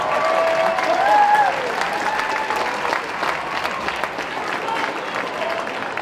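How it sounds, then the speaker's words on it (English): Crowd at a boxing fight night claps loudly and steadily, a broad roar of applause with a short tonal whistle-like sound early on, continuing evenly to the end. "And a nice round of applause also for Columbia, South Carolina's Mark Anderson."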